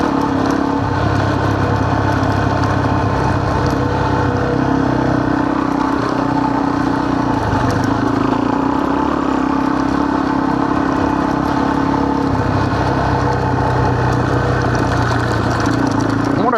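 Motorcycle engine running steadily in first gear on a sandy trail ride at Rodgers Trough, a loud continuous mid-pitched drone with slight wavering in pitch, close to the listener.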